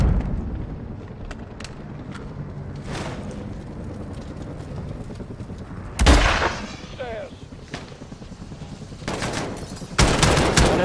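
Gunfire in the Modern Warfare campaign: bursts of shots and blasts crack out in a loud cluster midway, then another heavy volley near the end, over a low rumbling game backdrop.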